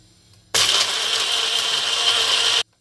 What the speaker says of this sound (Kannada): ಬೀಸ್ಕೊಳ್ಳೋಣ, ಮಿಕ್ಸಿ ಮಾಡ್ಕೊಳ್ಳೋಣ.